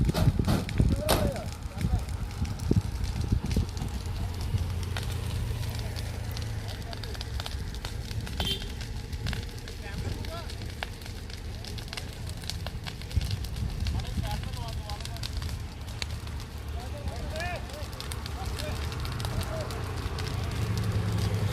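A large fire roars with a low, steady rumble and scattered crackling, heard from a distance, while muffled voices carry on in the background.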